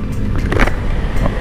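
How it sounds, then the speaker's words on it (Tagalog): Road traffic on Mindanao Avenue heard from an e-bike, a steady low rumble of car engines and tires passing nearby, continuous and fairly loud with no talk. "Eto, nasa traffic po tayo sa Mindanao Avenue."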